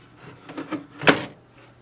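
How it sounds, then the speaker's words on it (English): HP Envy Photo 6220 printer's ink access door being pushed shut: a few soft plastic knocks, then one sharp, louder snap closing it, nearby and isolated. "So once you install the ink cartridge, simply push the door down"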